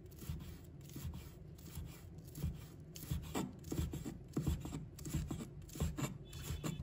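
A knife shreds folded scallion leaves on a board in quick, irregular close-up chops and rasping strokes, fairly quiet and without voices.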